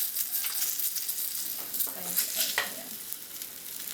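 Chili and garlic frying in oil make a soft, steady sizzle, with a few stirring scrapes and a brief spoken remark.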